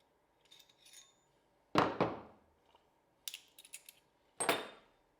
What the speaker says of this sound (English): Now I have to remove the firing pin.